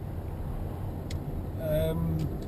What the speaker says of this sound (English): There's a lot of traffic here actually.